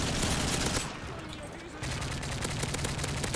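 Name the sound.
rapid automatic rifle gunfire in video game Modern Warfare 3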